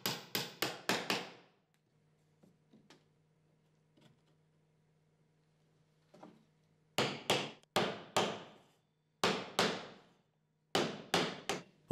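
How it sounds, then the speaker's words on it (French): Sharp hammer blows come in quick clusters of four to five strikes as wooden shelves are fixed into a wardrobe with scrap pieces of wood, separated by quiet gaps with faint knocks. "vous devrez tout bien fixer avec un marteau et des restes de morceaux de bois"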